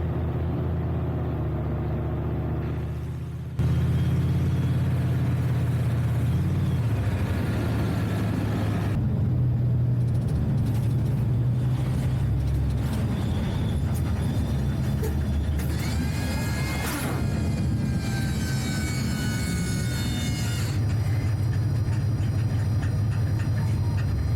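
Leopard 1A5 MEXAS tank during a parade ride, its engine a steady low rumble heard from on board, with mechanical clanks and squeals from the running gear over a continuous drone.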